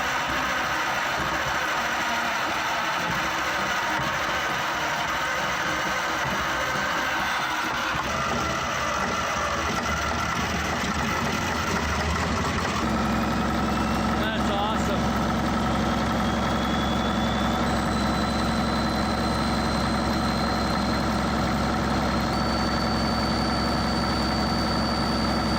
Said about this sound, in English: the 25-horsepower Otto stationary engine, cast in 1905 after 90 years of dormancy